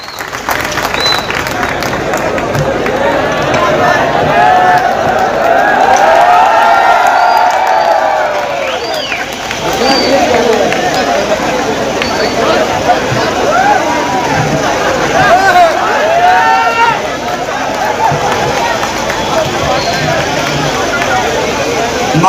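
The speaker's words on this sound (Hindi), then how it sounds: "भरपूर तालियां बजा करके हमारे नेताजी धर्मेंद्र यादव का इस्तेकबाल करेंगे।" Crowd at an outdoor Samajwadi political rally in Malegaon applauding, cheering and whooping to welcome a party leader, a loud, steady wash of clapping and shouts that swells midway and carries on throughout.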